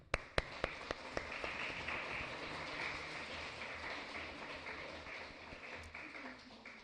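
Audience applause for a sponsor at an academic conference day, opening with a few sharp separate claps and then swelling into steady, dense clapping from a large room that holds evenly before tapering slightly at the end.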